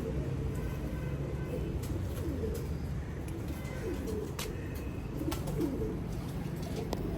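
Soft, low pigeon cooing repeats in the background over a steady outdoor hum, with occasional faint chirps and clicks.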